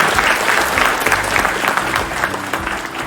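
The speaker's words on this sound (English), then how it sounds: "Please give a special clap to him." A lecture-hall audience at NIT Warangal claps for a guest in a wheelchair, loud, dense and sustained applause heard close throughout with slight fluctuations.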